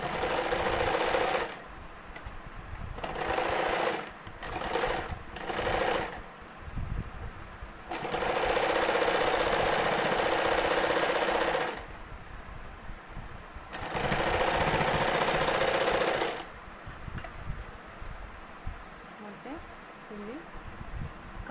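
A sewing machine stitches a plain blouse, whirring in several sustained runs of a few seconds each, with quieter gaps between them where a voice talks.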